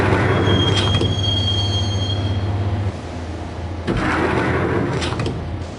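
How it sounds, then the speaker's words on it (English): Subway train wheels squealing in Max Payne, a loud sustained metallic screech riding over a steady rumble of the moving train, fading after about three seconds, with a second burst of rattling track noise later. "the train doors had already shut behind me, and I was in for the ride"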